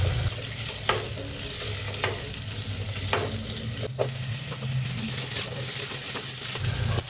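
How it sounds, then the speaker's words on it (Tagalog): Carrots and potatoes sautéing in a pan for chicken afritada give off a steady sizzle, with periodic scraping stirs from a utensil; there is no talking. "mag-umpisa na tayong mag-saute ng carrots"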